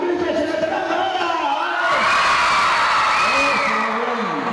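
A crowd at an oratory contest in Chalatenango, El Salvador, shouts a loud group cheer together, a sustained, full-throated roar of many voices that swells and holds near and loud for several seconds.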